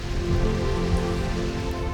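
Rain falling outside makes a steady, even patter and hiss for a couple of seconds, fairly full and unbroken, with no voices.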